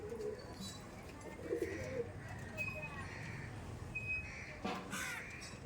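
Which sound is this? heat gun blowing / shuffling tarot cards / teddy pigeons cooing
teddy pigeons cooing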